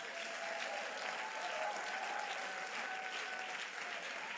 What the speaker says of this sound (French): Peux-tu acclamer Dieu, s'il te plaît?